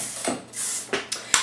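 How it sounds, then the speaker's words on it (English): Hairspray is misted over a fully curled head of hair in a few short hissing bursts, close and fairly loud, each spritz separated by brief pauses. "I just go ahead and spray one good spray all over"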